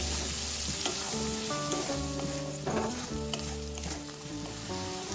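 Potato, onion and garlic frying in oil with salt and turmeric, a steady close sizzle with stirring scrapes under background music.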